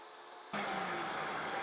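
A power saw cross-cuts a wooden board for a bathroom soap dish. Quiet room tone gives way to a sudden, loud, steady roar of cutting that continues to the end.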